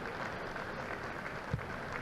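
A round of applause rises from supporters at an under-18 academy rugby match between Saracens and Harlequins as the Harlequins side walks off, a soft, distant, steady patter of clapping with a single louder thump.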